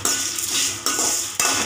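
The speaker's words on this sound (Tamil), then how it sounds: "தேங்காய் போட்டுக்கணும்" Grated coconut stirred in a dry cooking pan without oil for a mutton curry masala, a steady close scraping and rustling with two sharp utensil knocks against the pan.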